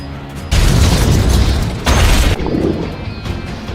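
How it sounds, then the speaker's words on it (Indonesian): A submarine blows up in an action film: two heavy, broadband booms roar in close and loud, each followed by a rumbling tail that fades into lingering debris noise. "Kapal selam Adam akan meledak"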